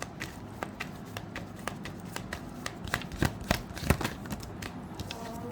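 Tarot cards being shuffled in a steady run of soft papery riffles and light taps, close up, with occasional sharper flicks and no talking.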